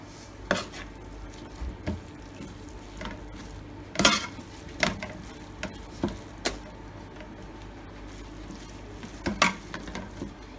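Duck curry being stirred in a pan after garam masala and salt go in, a spoon scraping and knocking at irregular intervals over a low, steady sizzle, close and fairly quiet.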